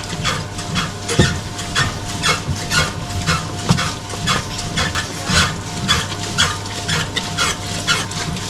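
Steady mechanical whirring of a dough mixer kneading 70% hydration pizza dough, with rhythmic thumps and slaps of dough repeating throughout, fairly loud and continuous.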